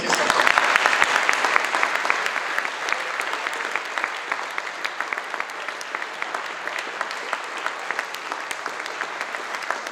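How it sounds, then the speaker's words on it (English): A hall audience claps steadily after student game project presentations at a university programming lab, a dense, even round of applause lasting the whole stretch with no letup. "let's have a big round of applause for those games"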